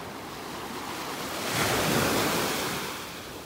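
Rough surf breaks along a North Naples, Florida beach in a steady, close wash. One wave swells loudest in the middle and then fades back, with wind buffeting the microphone throughout.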